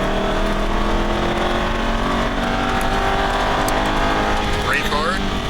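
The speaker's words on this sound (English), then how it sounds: "Now accelerate out. Accelerate out. Full throttle." Aston Martin V8 Vantage accelerating at full throttle on a track, a loud, sustained engine roar with rising tones, and a man giving instructions over it.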